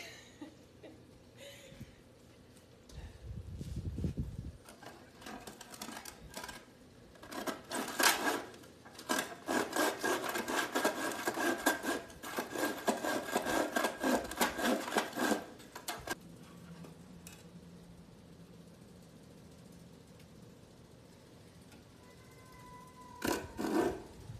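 A handsaw cuts wood for a simple collection box in steady, rasping back-and-forth strokes, loudest in the middle stretch, with some handling noise and quieter gaps around it.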